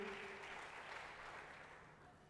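A church congregation applauds together, a full, warm burst of clapping that starts strong and slowly tapers off over a couple of seconds, fairly quiet overall with a faint hum beneath.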